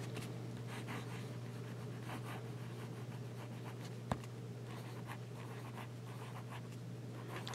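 A Jinhao 990 fountain pen with a fine nib writes on Rhodia lined paper, faint close scratching strokes in a steady irregular rhythm over a low electrical hum, with one sharp tap midway.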